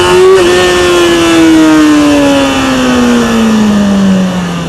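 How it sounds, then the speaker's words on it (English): A motorcycle accelerates hard in first gear for a wheelie, its engine a loud, close, sustained drone whose pitch slides steadily downward across the whole stretch. "We're going to take off in first gear, accelerate hard, and you're going to see the front end's going to just gently come up"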